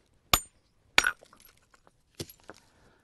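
Sharp stone-on-stone knocks as a hammer knocks flakes off the edges of flint, four or five separate strikes spaced irregularly, each a bright crack with brief chips and rattles after, close and quiet in between.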